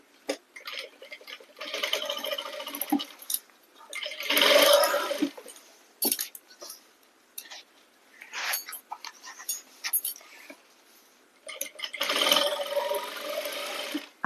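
Sewing machine stitching along the edge of a salwar, short rattling bursts of rapid mechanical clatter separated by quiet pauses, close and moderately loud, no talking.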